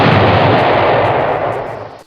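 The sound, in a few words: explosion in a film scene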